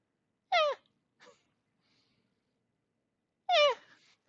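A person vocally imitates mating turtles with two short, nasal, whining squeals spaced about three seconds apart, with a faint small grunt after the first and quiet silence between.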